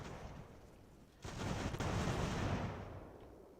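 A musket volley in Ultimate General: American Revolution erupts as a rolling, crackling roar that swells suddenly and stays broad and sustained before slowly fading, distant and fairly quiet.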